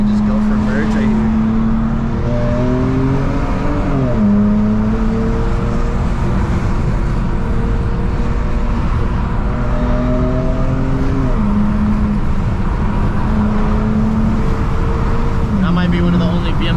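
A 2010 BMW E90 328xi engine pulls up through second gear after a downshift while merging, a steady close interior drone rising and falling in pitch, with a person talking over it.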